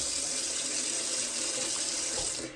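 A household tap turned fully on pours water at full flow, giving a loud, steady rushing hiss that runs unbroken and close throughout, with no voices.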